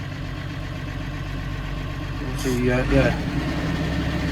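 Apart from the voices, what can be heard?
Massey Ferguson 135 tractor engine idling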